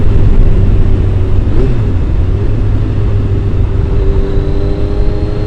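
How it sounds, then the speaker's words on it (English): A Triumph Daytona T595 motorcycle with a triple-cylinder engine being ridden, its loud steady engine drone mixed with heavy wind rumble, holding a fairly even pitch with a slight rise in revs partway through. "Triple engine is got a nice note to it."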